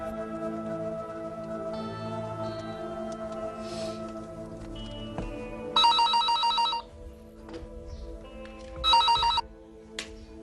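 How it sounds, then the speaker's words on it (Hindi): A telephone rings in two loud, bright electronic bursts, each about a second long and a few seconds apart, over a quiet steady background hum. "मेरा तो ख्याल था कि अब तुम्हारी जगह शेरजान फोन उठाता होगा"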